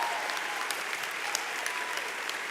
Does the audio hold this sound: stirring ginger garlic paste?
no